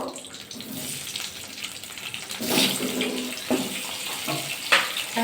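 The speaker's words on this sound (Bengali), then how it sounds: "আলুকে ভাজা করে নেবো" Potatoes frying in hot oil in a pan, a steady close sizzle and hiss with brief louder crackles and bubbling bursts.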